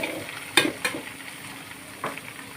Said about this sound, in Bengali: এভাবে আমি কিছুক্ষণ সেমাইটাকে সুন্দর করে ভেজে নেব।